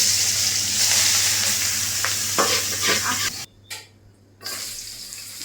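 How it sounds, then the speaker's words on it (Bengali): Cumin seeds and fish hit hot oil in a pan, giving a loud, steady sizzle that cuts out briefly near the end, then resumes. "তেলটা গরম হয়ে গেছে, এখন জিরা দিয়ে দিই, একটু মাছটা আমি দিয়ে দিই।"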